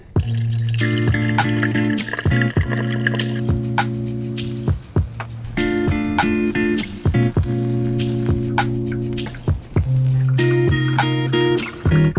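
Water runs and trickles steadily while coffee is made inside a van, with a constant tonal hum beneath it and brief pauses and drips between pours.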